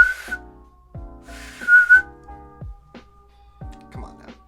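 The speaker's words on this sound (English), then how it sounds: "So you can't tell me that it's not a whistle because you just clearly hear me." A small whistle built from Lego bricks is blown in several short, shrill toots with gaps between them, close and fairly loud, with soft clicks and handling noises in between.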